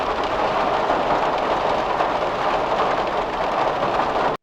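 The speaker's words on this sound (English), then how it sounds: "When you get outside, that rain hitting the van is going to sound much sharper because you're not hearing it from inside the van, right?" Steady heavy rain drums on the metal body of a van, heard from outside, a dense, loud, unbroken hiss that cuts off abruptly at the end.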